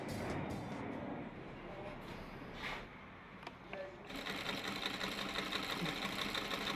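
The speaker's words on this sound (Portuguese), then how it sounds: "Desde quando que a senhora costura, dona Raimunda?" Sewing machine running in a home setting, a steady close mechanical whir with rapid stitching rhythm, briefly easing off before resuming louder and continuous, with no talk over it.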